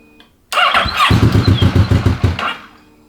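A 600cc crosskart engine cranks briefly and fires up loud and close. It settles into a rough, pulsing idle for a couple of seconds, then dies away.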